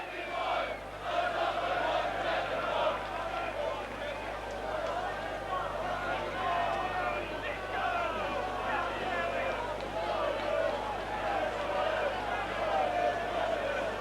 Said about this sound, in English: There's only one David Ward, the crowd are singing below me